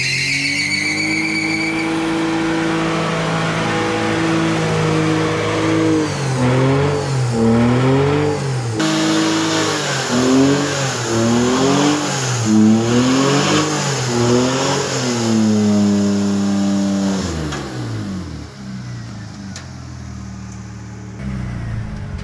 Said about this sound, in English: this is my first trailer burnout and I don't want to wreck both my cars